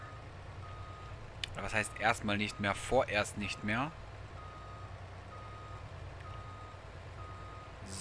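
Truck reversing beeps while parking in Farming Simulator 22, a steady faint repeating tone running through the clip under a low engine hum, while someone talks briefly near the start.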